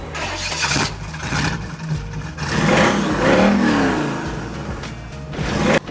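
A Chevy II engine fires up at the Blacktop Nationals car show in Wichita, Kansas, catching quickly and then revving loudly in repeated surges, close and alone without talk.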